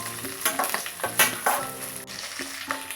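Urad dal, chana dal, green chillies and cashews frying in oil for lemon rice, with a soft continuous sizzle and several distinct scraping stirs of a spoon against the pan.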